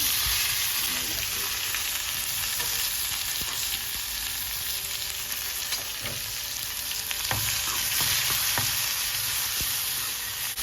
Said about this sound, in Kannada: ಇದಕ್ಕೆ ಹೆಚ್ಚಿಟ್ಟ ಈರುಳ್ಳಿ ಟೊಮೆಟೊ ಹಾಗೂ ಹಸಿಮೆಣಸು ಹಾಕ್ಕೊಳ್ತಾ ಇದ್ದೀನಿ